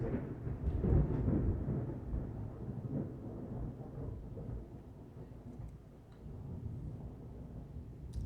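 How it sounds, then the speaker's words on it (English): Deep rumbling thunder from a lightning storm rolls continuously for several seconds, low and fairly distant, with a soft wash of rain and no voices. "that lightning was kind of frightening"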